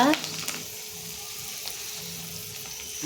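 Garam masala spices with cinnamon sizzle and fry in a pan for chicken butter masala, a soft steady hiss running close throughout, with a brief clatter near the start and no talking.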